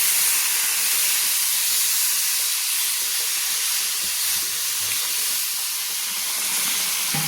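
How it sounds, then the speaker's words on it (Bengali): Water poured into a pan of spiced vegetables and gourd stems frying in oil sets off a loud, continuous broadband hiss that stays steady and close for several seconds, with no talk over it. "আমি প্রয়োজন মতো জল দিয়ে দিচ্ছি"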